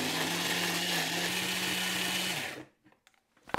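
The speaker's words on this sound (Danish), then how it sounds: "Nu blender vi det hele til en fin puré." A kitchen blender purees a kebab meat mixture with eggs, a loud steady whirring drone that runs for a couple of seconds and then cuts off, leaving quiet clatter.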